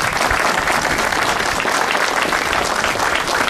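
Dense, continuous applause fills a commemorative ceremony held on 11 November, an even wash of many hands clapping at once with no voices rising above it.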